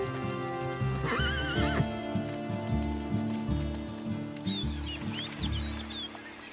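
Horses neigh and whinny in a wintry Scandinavian landscape, loud shrill calls standing out over hoof clip-clop and a steady low background, with faint bird chirps later.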